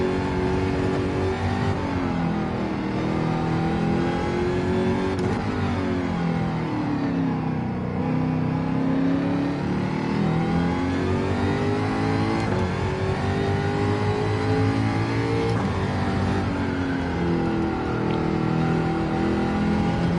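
Race car engine in Gran Turismo 7 driven flat out on hard tyres, a loud sustained roar with rising and falling revs through repeated gear shifts, steady and close, no talking.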